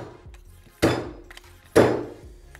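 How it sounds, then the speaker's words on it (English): A 48 mm fork seal driver strikes twice to seat an oil seal in a WP open chamber motorcycle fork, giving two sharp, close metallic thunks with ringing decays, spaced about a second apart, with no talk. "Then we're going to drive the seal into its seated position."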